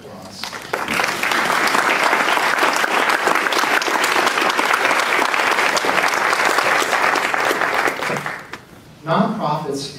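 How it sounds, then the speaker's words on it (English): An audience at the 2013 San Leandro State of the City speech applauds: dense, steady clapping for about eight seconds that fades away, followed by a brief voice. "let's give them a round of applause"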